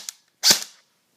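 A single sharp shot from a JG M4 airsoft electric gun, a crisp mechanical snap with a brief whirring tail, close up, preceded by a faint click, no talking.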